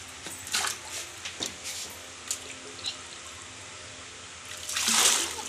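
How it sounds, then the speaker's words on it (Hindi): Water splashes and drips as a small child is bathed outdoors in summer, with scattered pouring and splattering sounds and a louder rushing splash near the end. "आप लोग देख सकते हैं मेरी बाबू कैसे नहा रही हैं, गर्मियों में कितने मज़े ले रही हैं पानी का"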